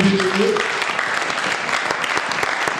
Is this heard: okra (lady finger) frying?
no